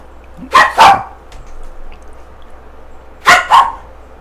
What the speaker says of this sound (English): I have 2 puppies that like to bark